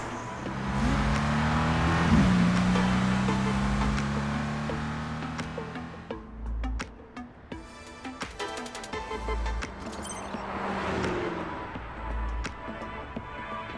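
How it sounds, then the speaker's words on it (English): An engine roars loudly as a car accelerates in the video game Love and Deepspace, its pitch rising then settling, followed by a denser stretch of engine noise and further revving with clicks and whooshes. "I need to step on the gas."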